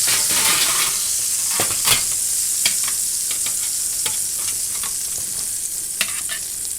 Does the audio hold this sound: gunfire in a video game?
no